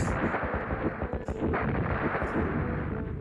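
A gas-filled room ignites in the video game Star Ocean, a dense, rumbling blast with rapid crackling bursts that stays steady for a few seconds at moderate level.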